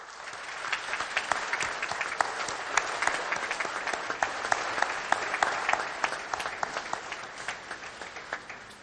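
A standing audience at the African Development Bank annual meetings applauds the President, with steady, dense clapping holding at a strong level for nearly nine seconds and sharp individual claps popping out of the mass.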